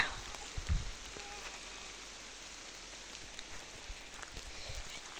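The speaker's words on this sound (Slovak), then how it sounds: "Prší." Rain patters steadily through a forest, a soft, even hiss of drops on leaves and ground with a few faint knocks and a brief low thump near the start.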